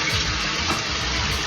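Steady rushing of tap water pouring continuously, close and fairly loud, with no voices.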